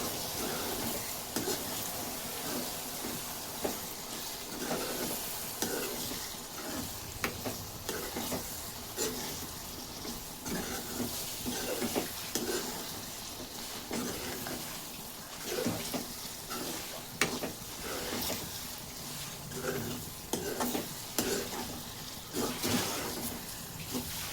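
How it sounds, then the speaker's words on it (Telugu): Onions and chili powder for a potato-egg curry fry in a pan, giving a continuous soft sizzle broken by frequent scraping stirs of a spoon, moderately quiet and close, with no talking. "మనం వేసుకుని 2 నిమిషాలు అయితే ఇలా బాగా ఫ్రై చేసుకోవాలి."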